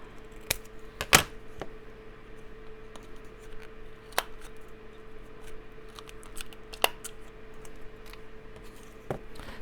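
Scissors cut paper for a junk journal, with a few sharp snips and crisp clicks spread through a quiet room tone, close and alone without speech.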